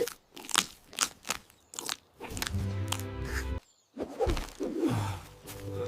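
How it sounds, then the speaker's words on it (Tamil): Cartoon mouse gnawing and tearing through a hunter's net, heard as a loud run of crunchy biting and ripping bursts with crackling texture, briefly pausing before more chewing and tearing resumes. "எலி வலையை கடித்து கிழித்தது."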